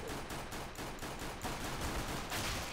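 Rapid gunfire from the video game CS:GO, a steady dense burst of shots running through the whole stretch at moderate loudness, with no voices.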